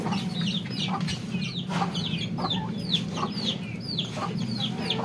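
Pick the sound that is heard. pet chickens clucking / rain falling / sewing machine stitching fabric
pet chickens clucking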